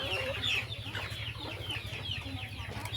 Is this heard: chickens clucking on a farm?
yes